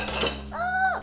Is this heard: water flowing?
no